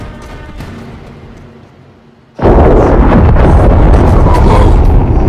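A missile blast booms out in the Call of Duty Modern Warfare 3 campaign. Quieter rumbling ambience gives way to a sudden loud explosion, and a dense roaring blast continues to the end.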